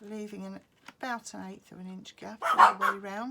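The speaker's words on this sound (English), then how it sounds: "Sorry about my dogs barking there." Pet dogs bark a few times at home in the background, faint and intermittent beneath a person speaking steadily close by.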